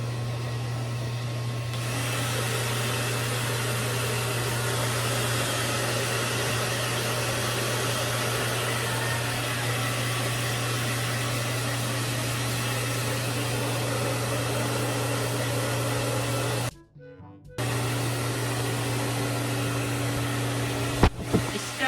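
A blower or hair dryer drying a pet whirs in a steady, loud, continuous hum close by, cutting out briefly near the end before starting up again.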